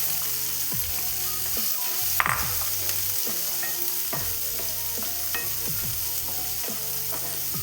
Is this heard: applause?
no